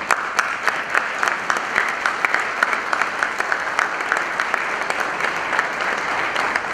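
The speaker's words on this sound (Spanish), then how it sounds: "a quien pido un fuerte aplauso," An audience at a prize ceremony for a Peruvian contest claps loudly and continuously, a dense, sustained burst of applause from many hands with sharper individual claps popping through.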